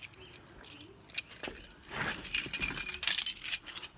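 Car keys jangle and clink close by, starting as faint scattered taps and turning into a busier, brighter rattle over the last two seconds.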